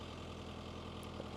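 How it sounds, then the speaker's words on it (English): A tractor engine idles steadily near a garden, a continuous low rumbling drone with no talk over it. "there's the tractor again"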